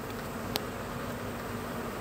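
Steady buzzing of honeybees crowding the entrance of a hive after cold and rain, a continuous mid-level hum with one brief louder pass close by.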